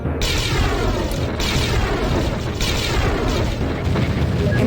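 A missile strike in a space-fighter video game, heard as a dense, sustained roar of explosive rumble with low booms running throughout, loud and close.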